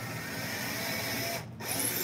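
A drill bores down through thick wooden rosettes, a steady close whirring grind that briefly cuts out near the end before resuming.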